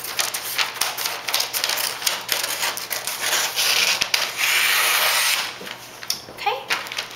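Scissors slice across a sheet of freezer paper, paper on one side and wax on the other, with a steady run of close crisp cutting and crinkling, a rustle of handling at the end, and no talk.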